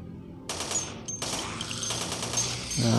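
Rapid automatic gunfire in the zombie shooter Dead Effect 2, a dense rattling burst that breaks briefly and resumes, fairly loud and close, ending as another sound rises.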